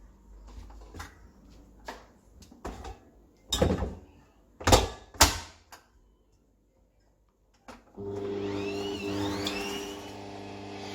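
Carrot cake batter being mixed: a few knocks and clunks, then a short pause and a steady, close motor whir that runs to the end, with no talking.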